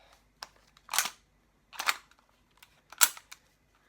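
A customised Crosman R1 air gun with rail handguard being fired, three sharp, dry mechanical cracks about a second apart, close and loud against a quiet background.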